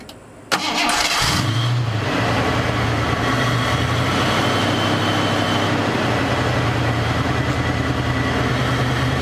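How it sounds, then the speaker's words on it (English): A Mercury Cougar engine cranks briefly then fires up and settles into a loud, steady idle with a rough, rumbling texture, recorded close with no voices. "Okay, let's start the car."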